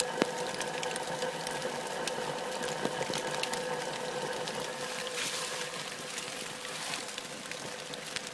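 A steady gurgling, bubbling hum with faint tonal whine from a Propex propane heater in a Vanagon Westfalia, close by and continuous, with light crackles and pops scattered throughout.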